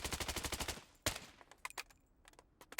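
VSS rifle with a rapid-fire magazine in the BloodStrike video game: a fast burst of about a dozen evenly spaced gunshots, then a single loud shot, followed by scattered, fainter shots and impact clicks.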